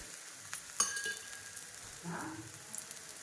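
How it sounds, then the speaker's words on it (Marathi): A methi thalipeeth is flipped and fries in a little oil, a faint, quiet sizzle with a sharp clink of a utensil early on and a few light scrapes. "आता आपले हे थालीपीठ आपण पलटून घेणार आहोत. आणि थोडे तेल सोडून घेणार आहोत"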